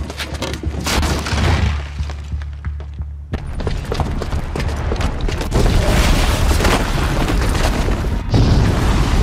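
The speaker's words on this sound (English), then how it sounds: "the booby trap on the bomb downstairs is gonna get set off" A bomb goes off in Horizon Zero Dawn, a loud low boom that rolls into sustained rumbling and crackling debris, with heavy blasts and bursts piling up in a dense, continuous wall of destruction.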